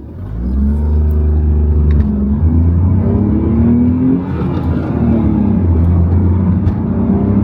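A Tata Tiago hatchback after 6 years and 90K km accelerates from 0 to 100 with four people aboard, heard from inside as a loud engine drone rising in pitch through the gears with brief dips at the shifts.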